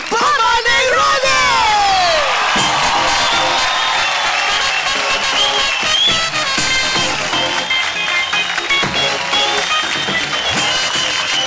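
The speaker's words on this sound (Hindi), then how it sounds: "जोरदार तालियों से मंच पर स्वागत कीजिए" A studio audience on a dance show stage applauds and cheers loudly for actor Boman Irani's entrance, a dense, steady roar of clapping and whoops with music underneath.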